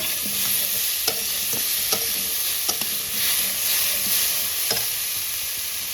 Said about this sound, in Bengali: আর এখন এই যে ইলিশ মাছের মাথাগুলো দিয়ে দেবো।